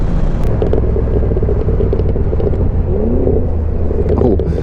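Engines rumble at a Cars and Coffee car meet, heard from a passing rider amid loud, constant road and wind roar, with faint revving and pops mixed into the din.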